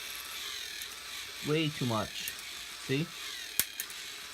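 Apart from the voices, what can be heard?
toy motor skipping on plastic gears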